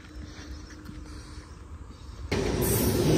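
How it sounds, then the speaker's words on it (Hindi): The Paschim Express, running from Mumbai to Amritsar, approaches Morinda station without stopping. Faint rail rumble and distant crickets give way to a sudden loud, rushing roar as the train arrives. "ये ट्रेन भी रुकेगी नहीं यहाँ पर"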